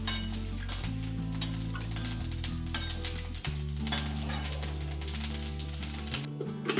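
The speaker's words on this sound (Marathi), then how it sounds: "गॅस कमी करून फ्राईंग प्रोसेस" Potato french fries frying in oil over a low gas flame give a steady, even sizzle that runs throughout, with background music over it.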